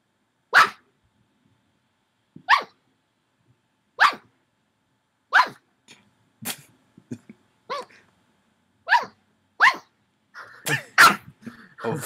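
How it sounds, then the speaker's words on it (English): A dog gives a string of loud, sharp, squeaky barks spaced a second or two apart, close to the microphone, ending in a quicker cluster of yelps with no talk over them. "The next checkpoint is going to be what comes out of my dog's mouth."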